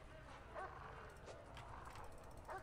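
Guard dog in the Prison Architect video game giving two short, faint barks a couple of seconds apart over a soft, murky game background.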